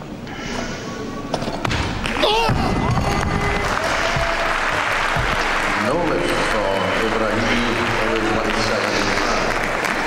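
Audience in an arena at the 2005 World Weightlifting Championships, men's 94 kg snatch, applauding a failed lift: dense, sustained clapping swells after a couple of thuds and carries on steadily, with a commentator talking over it.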